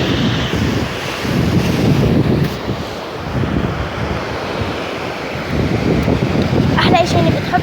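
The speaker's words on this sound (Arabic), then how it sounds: "هيني قاعدة بصور لكم البحر" Sea waves washing onto a beach, a continuous rumbling surf with swells rising and falling, heavy wind buffeting the microphone throughout.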